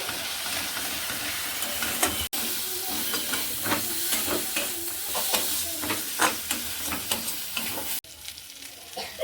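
A spice masala is sautéed and stirred in a pan with sugar added, giving a steady close sizzle broken by repeated scraping strokes of the spoon, with no talking.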